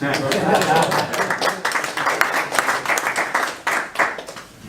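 Scattered audience applause breaks out during a Power Apps demo, with a run of uneven claps from a small group alongside speech.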